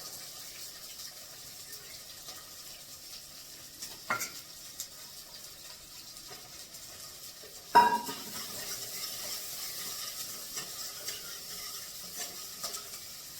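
Tadka tempering sizzles quietly in a pan, a steady faint frying hiss with two sharper crackling bursts as ingredients hit the hot oil, heard alone without talk.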